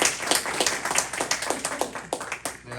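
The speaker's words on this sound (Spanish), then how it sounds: "Dele fuerte el aplauso al Señor." A church congregation claps and applauds together, a dense run of sharp, overlapping hand claps with uneven rhythm, close and fairly loud throughout.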